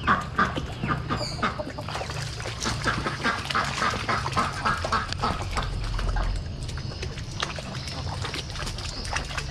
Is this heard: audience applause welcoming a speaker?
no